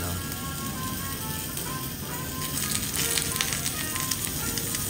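Food sizzling as it cooks at a restaurant in Sapporo, Japan, a dense steady hiss throughout with crackles growing slightly louder toward the end.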